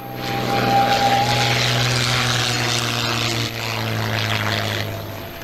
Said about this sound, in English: This P-51 Mustang touching down early.